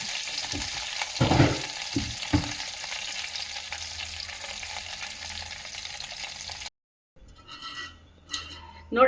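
Curry leaves dropped into hot tempering oil for a coconut chutney crackle and sizzle in a steady close hiss with a few sharper pops. The hiss cuts out, then brief kitchen clatter follows.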